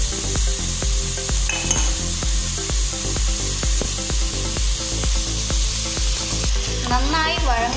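Filling being sautéed in a pan for chatti pathiri, a continuous sizzle broken by a steady run of regular scraping strokes from a spatula, close and clear, with a faint whistling tone near the end.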